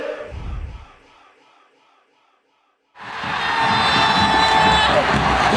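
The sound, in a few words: stadium crowd cheering for FC Anyang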